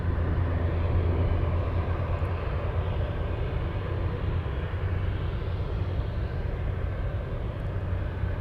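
A cargo airplane near Anchorage airport, its engine a steady broadband roar and low rumble held at an even level, heard alone and at some distance.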